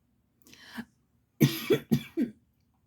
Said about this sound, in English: Oh, bloody coughing fits today.